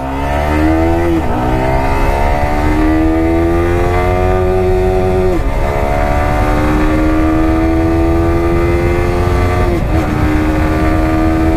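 Yamaha R15 motorcycle with a quick shifter accelerating hard, its loud, steady engine note climbing in pitch through gears, with three crisp shift breaks as revs drop and rise again, continuous and close throughout.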